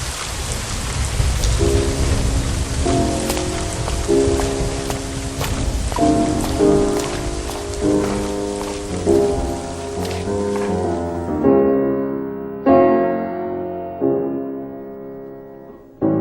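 A night storm of rain falling heavily with occasional thunder rumbles, layered under loud piano music that plays throughout and continues after the storm noise drops away.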